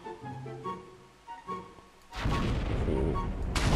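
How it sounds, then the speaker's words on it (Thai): A bazooka in a Minecraft gun mod fires in rapid succession, producing a loud, continuous roar of overlapping blasts after a stretch of quieter game sounds and talking. "โอ้ปืนบาซูก้าอะไรวะเนี่ยมันยิงรัวขนาดนี้"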